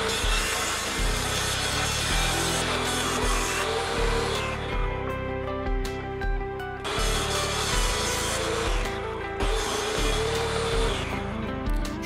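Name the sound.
jigsaw cutting wood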